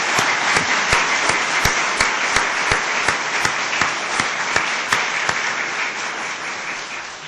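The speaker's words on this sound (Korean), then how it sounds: "우리 박수로 감사를 표하겠습니다" A church congregation applauds steadily indoors, with a few sharp, louder claps standing out at a regular pace above the continuous patter.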